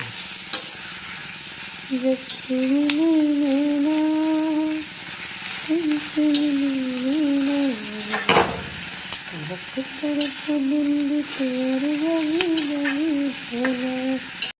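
Steady sizzling of food frying in a pan, with occasional stirring scrapes, while a voice talks over it throughout.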